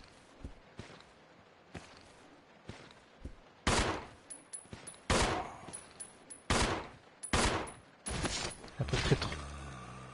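Gunshots from a weapon fired at zombies in Resident Evil Zero ring out alone: a few faint early pops, then a run of loud, sharp single blasts spaced about a second apart, trailing into softer clatter.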